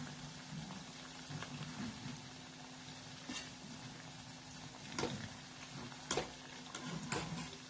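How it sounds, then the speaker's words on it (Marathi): Spring rolls fry in hot oil with a quiet, steady sizzle and bubbling, punctuated by occasional soft clicks and taps of utensils against the pan. "आता हे तळून घेऊ."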